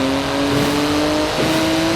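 A 700-horsepower 3.8-litre flat-six twin-turbo car in Forza Horizon 4 revs loud and close, a sustained droning engine note holding steady pitch with a slight rise near the end.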